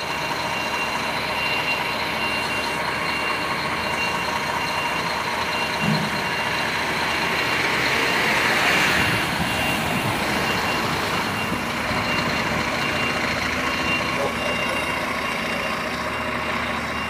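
A Scania R480 truck maneuvers slowly with a steady engine rumble and a continuous broad mechanical noise, reversing beeps blending in faintly; no talking.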